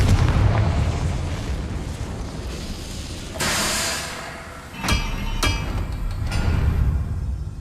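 Several sharp blasts from the Confringo fire spell in the video game Hogwarts Legacy, booming out one after another over a steady rumbling battle background.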